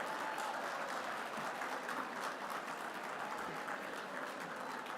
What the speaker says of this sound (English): Please give her an amazing round of applause.